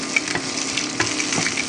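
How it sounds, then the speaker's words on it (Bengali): Garlic fries in a pan with a steady, soft sizzle and light crackling, close and fairly quiet, with occasional scraping as it is stirred; no voices. "রসুনটা এভাবে খাওয়ার জন্য ভাজতেছি"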